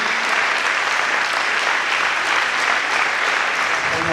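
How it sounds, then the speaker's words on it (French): A group applauds at the end of a basketball training session, a dense, even clapping that holds loud and steady for the whole few seconds. "on peut les applaudir"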